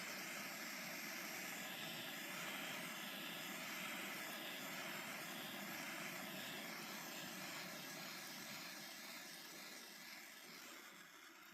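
Steady roaring hiss of a propane torch heating the intake of a very cold Ford engine, a continuous broadband rush that holds fairly even and fades slightly at the end, no voices.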